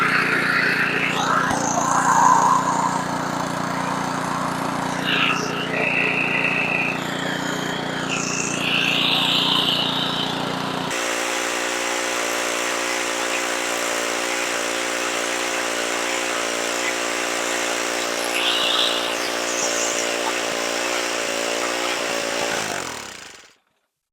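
A snowblower engine runs at a steady, loud drone, left idling to burn the gas out of the carburetor, then sputters and dies abruptly at the end.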